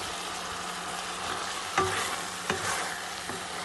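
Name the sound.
karela stuffing frying in ghee and being stirred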